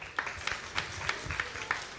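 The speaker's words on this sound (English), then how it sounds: "Everyone give Steve a round of applause." Brief, faint applause from a magic show audience, a few scattered claps repeating at a loose rhythm for about two seconds.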